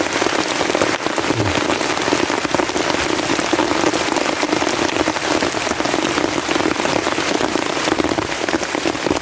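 Steady, heavy rain pours and patters on a surface without pause, a dense continuous hiss throughout.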